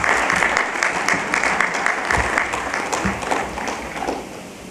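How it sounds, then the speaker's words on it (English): A conference audience at an HR conclave claps for Professor Sahai, a loud, sustained ripple of many hands that gradually thins and softens toward the end. "A round of applause to Professor Sahai."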